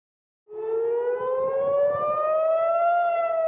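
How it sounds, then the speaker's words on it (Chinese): An air raid siren sounds in Jerusalem, starting abruptly and holding a loud, slowly rising wail with a faint low rumble underneath, heard alone with no voices. "以色列首都耶路撒冷搁再向空袭警报"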